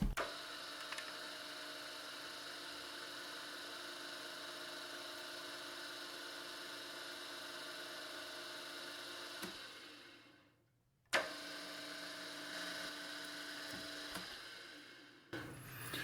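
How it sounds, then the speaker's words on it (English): A machine power-tapping a 3mm thread at 95 RPM on a compact rotary broach setup gives a steady, even motor whine and mechanical hum. It drops out briefly near the end and then resumes. "power tapping the 3mm thread at 95 RPM"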